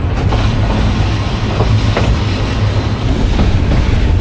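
The Nazirhat local train rolls on rails near Chattogram Junction, a loud continuous rumble with a low drone and faint rhythmic clicks from the wheels over track joints, close and steady throughout.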